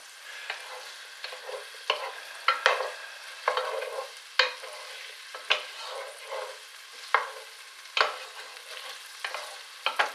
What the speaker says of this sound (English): You just need to keep on stirring it so they don't stick to the pan